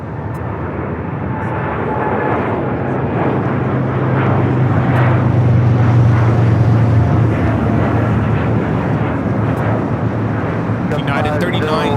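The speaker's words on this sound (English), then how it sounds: "United 39 taking off to Tokyo Haneda on the 787-10 Dreamliner" A United Boeing 787-10 Dreamliner takes off from Los Angeles LAX, its broad engine roar building steadily and holding loud and close throughout, with a deep low rumble swelling in the middle.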